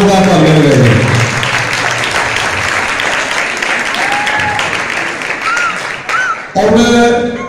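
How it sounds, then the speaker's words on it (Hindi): Loud, dense audience applause at a Christmas program honoring a children's performance, sustained clapping throughout with a voice speaking over it at the start and again briefly near the end. "मैं चाहता हूं कि इन बच्चों की हौसला अफजाई के लिए जोरदार तालियां लगाएं।"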